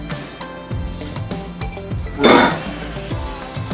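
Fresh-baked mayonnaise rolls tipped out of a hot baking pan, with a cluster of metallic clinks and knocks of pan and dishes, one louder clattering burst midway among lighter scattered taps, close by with no talk.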